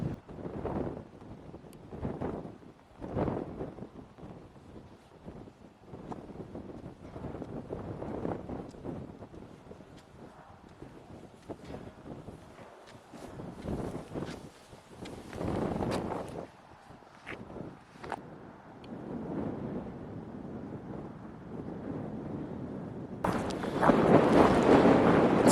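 Wind buffets the microphone atop a nuclear waste disposal cell, a steady broadband rush with gusty swells that strengthen near the end, loud and close with no talk.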